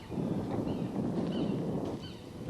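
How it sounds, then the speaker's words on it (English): Low, rumbling wind ahead of an approaching weather front buffets the microphone in a steady roar that eases slightly near the end, with no voices. "It's starting to get windy."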